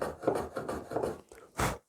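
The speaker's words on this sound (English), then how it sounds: "just gently take a little bit of material off that tenon until it comes back to the line" Short, rhythmic rasping strokes as a hand tool gently shaves material off a wooden tenon, about half a dozen close, soft scrapes ending in one firmer stroke.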